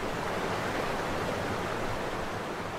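Steady, broadband roar of waterfalls at the Cirque du Fer-à-Cheval, constant and enveloping with no pauses.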